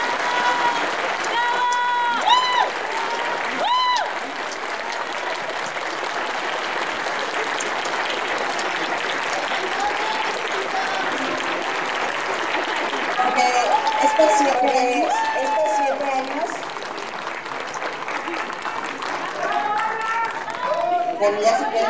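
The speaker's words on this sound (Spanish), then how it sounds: "Y así como les aplaudieron a ustedes, aplaudimos a ellos." Audience applause at a university degree-conferral ceremony, sustained steady clapping from a large crowd throughout, with a voice speaking over it at times.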